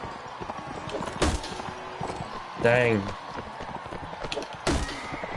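Hooves of a horse galloping in the video game Mount and Blade, a steady clip-clop beat with a brief whinny and a few sharp combat hits, while someone talks over it.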